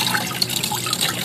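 Water dribbles from a compost tea bag into a bucket, making a continuous close trickle and splash with small drips scattered throughout.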